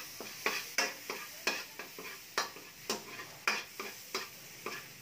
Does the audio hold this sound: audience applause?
no